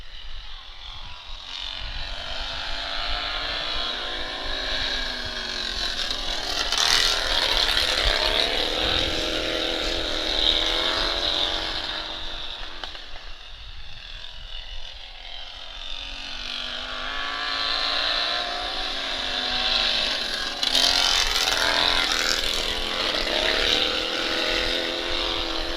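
Lawn tractor engines at an outlaw race in Petrolia, Ontario, including supermod class machines, drone loudly and steadily for the whole stretch, swelling and fading as the tractors pass, with no talk over them.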